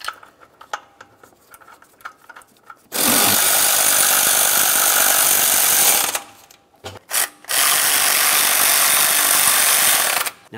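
A hand ratchet tightens the intake manifold mounting nuts on a 1994–2002 Dodge Ram 2500. It runs in two long, loud, steady bursts of close clicking, separated by short pauses and lighter handling noises.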